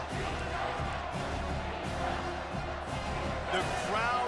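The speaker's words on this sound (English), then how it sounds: "The crowd elevating its energy, willing this defense to get a stop on this big third down" A stadium crowd roars and cheers steadily in the EA Sports College Football 25 video game, a dense, loud wash that swells near the end, with a commentator talking over it.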